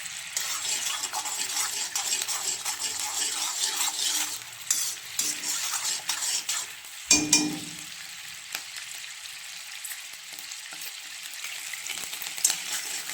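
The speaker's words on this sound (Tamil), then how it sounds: "வெண்ணெயில் இருக்கிற ஈரப்பதம் 1-2 இந்த அப்படி லைட்டாக அப்படி தெரிக்கும். நெய்யாக மாறிக்கிட்டு வருது." Butter melting into ghee in a pan sizzles steadily as its moisture sputters, with soft crackles and a louder clatter of stirring partway through, close and without any talk.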